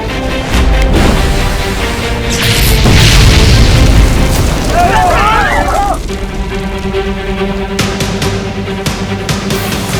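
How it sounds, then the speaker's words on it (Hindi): A burning passenger train erupts in a loud, heavy boom that rolls and roars for several seconds before settling into a lower crackling rumble, with voices heard over it in a dramatized scene. "ये इतना जोर का धमाका कैसे हो रहा है"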